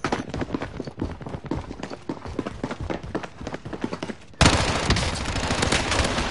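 Rapid automatic gunfire from a video game, a dense stuttering burst of shots that gives way to a louder, continuous roar of sustained fire near the end.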